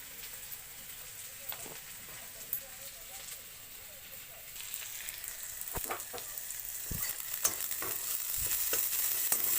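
Spiced bhetki fish frying in a kadai, a soft, steady sizzle with occasional sharper clinks and scrapes that grows louder toward the end.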